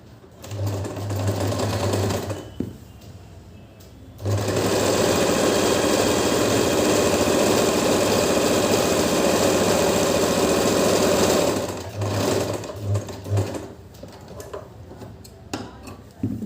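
A sewing machine stitches the side seam of a pintuck salwar, whirring loudly in long continuous bursts separated by short pauses, close up with no speech.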